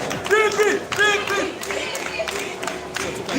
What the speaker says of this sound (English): A round of applause for Vice President Donald